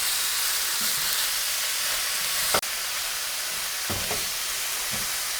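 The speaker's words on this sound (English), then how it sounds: "Go ahead and let that sear real quick." Wagyu beef short ribs sear in a hot pan with a loud, steady, broadband sizzle that runs throughout. A few faint clicks and knocks sound under it, and no one speaks.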